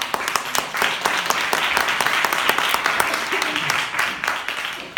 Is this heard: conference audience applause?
yes